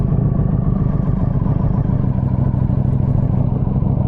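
The engine of a 2025 Ducati Panigale V4 motorcycle runs with a loud, steady low rumble close by, unbroken and with no voices over it.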